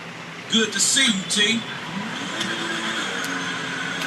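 A car engine idles and hums steadily as Franklin climbs into his car in a video game, with voices over the first couple of seconds and a low, even engine drone after.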